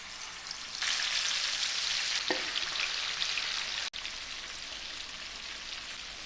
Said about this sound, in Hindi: फिश को मैरिनेट हुए 20 मिनट हो गए। अभी हम इसको फ्राई करने लगे।